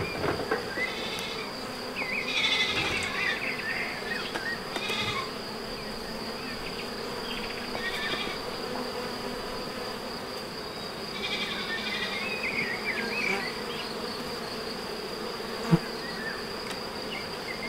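Honey bees buzz steadily around beehives at a first-year apiary, a dense continuous drone with a few louder passes close to the microphone and no talk.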